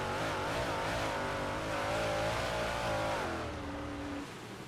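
Race cars in iRacing, a Northeast series sim race, accelerate hard on a green-flag restart with six laps to go, a loud continuous engine roar with rising and shifting pitch from several cars, no voices.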